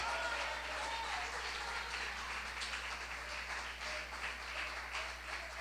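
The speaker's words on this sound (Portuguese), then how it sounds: "Isso mesmo, aplaude e dá um glória a Deus." A church congregation claps during a Portuguese-language worship service, a soft and steady wash of applause heard alone with a low constant hum beneath it.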